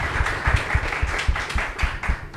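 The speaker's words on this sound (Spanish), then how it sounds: "un aplauso para ellos" Audience applause at a talk with trail runners, a short burst of rhythmic clapping from a small crowd, fairly close and steady throughout.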